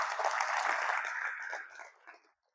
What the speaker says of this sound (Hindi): एक बार जोरदार तालियां उनके लिए होनी चाहिए।